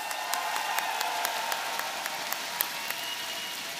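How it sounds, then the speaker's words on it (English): Crowd applause at an esports tournament finals, a steady bed of clapping with distinct individual claps popping out at irregular intervals. "we also want to give a huge round of applause for the 4th place finisher, Liquid Reds."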